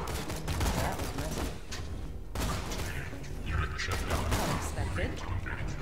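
Rapid bursts of gunfire in the video game Borderlands 2, dense and continuous over game sounds, with a voice talking over it.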